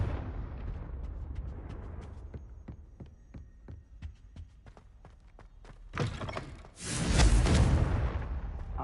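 Confringo blasting spells explode in the Hogwarts Legacy video game, a rapid series of sharp cracks over a low hum building into a loud, roaring burst of blasts near the end.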